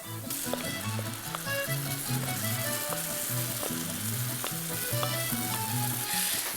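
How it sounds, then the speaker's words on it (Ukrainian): Pumpkin frying in a pan with onion and garlic for a pumpkin risotto, a steady close sizzle with scattered crackling pops and occasional stirring, no voices. "Як заледве підсмажили цибулю та чесник, додаємо сюди безпосередньо наш гарбуз."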